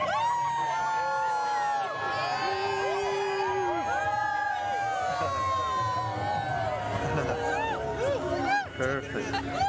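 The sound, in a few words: crowd cheering at wedding reception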